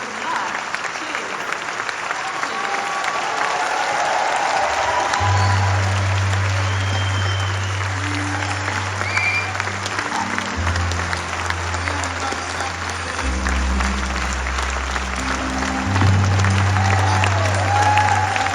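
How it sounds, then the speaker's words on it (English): Audience at an event in a hall gives steady, moderately loud applause throughout, with low tonal music and faint voices under the clapping. "Round of applause for Natalie, please."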